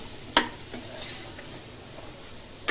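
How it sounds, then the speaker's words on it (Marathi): Peas and cauliflower with Maggi masala are stirred and sautéed in a pan, a soft sizzle under spatula scrapes, with two sharp clinks of metal on the pan. "आता हे व्यवस्थित परतून घेऊया"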